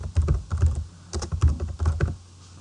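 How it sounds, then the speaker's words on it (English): Close typing on a computer keyboard while entering a name into database software: quick bursts of clicking keystrokes separated by short pauses. "Type a name, custom parts,"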